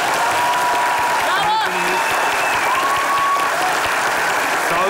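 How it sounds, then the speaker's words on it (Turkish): Steady audience applause from a studio crowd during a comedy show, a dense continuous roar of clapping with a voice cutting in briefly near the middle. "Metin'i de ayrıca bir alkışlayalım."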